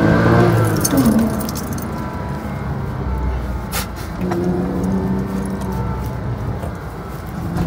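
A Porsche Cayman S engine, held in first gear, rumbles loudly and steadily in an enclosed, echoing tunnel, with a brief sharp jingle partway through.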